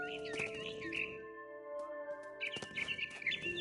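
Bright electronic bird chirps in quick repeated bursts in the video game What Remains of Edith Finch, pausing briefly midway before resuming, over a steady synthetic tone.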